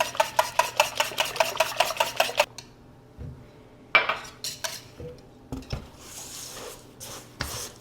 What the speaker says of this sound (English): I'm going to whisk in 1 tablespoon of melted butter.